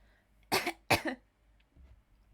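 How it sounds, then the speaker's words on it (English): Two short, sharp throat-clearing bursts close to the mic, one right after the other, then quiet. "Caught me in a throat clear there."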